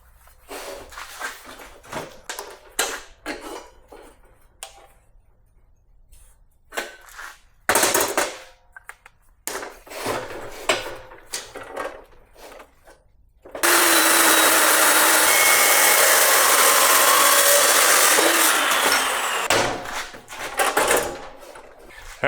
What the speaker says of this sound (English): if you're ever gonna cut plate like I'm doing right here without clamping it down or laying it flat